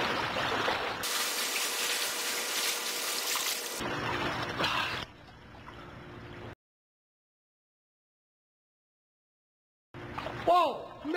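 A swimmer wearing flippers moves through a pool, with loud rushing, splashing water for several seconds that eases, then a long silence before a brief burst of sound returns at the end.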